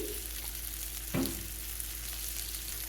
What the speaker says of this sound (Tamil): மூடி போட்டு மூடி லைட்டாக ஃப்ரை ஆக விடுங்க நல்லா ரோஸ்ட் ஆகட்டும்